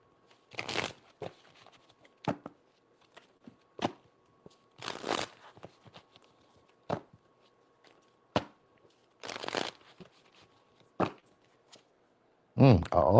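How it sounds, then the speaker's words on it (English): Tarot cards are shuffled in several short riffling bursts separated by quiet pauses, with scattered soft taps and handling noises nearby. "let me shuffle these out"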